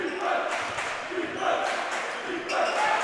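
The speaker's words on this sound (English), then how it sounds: "Fired up crowd for Bishop Canevin." Fired-up basketball crowd cheering for Bishop Canevin during a game against Central Catholic, a loud rolling roar of shouts that rises and falls in waves throughout.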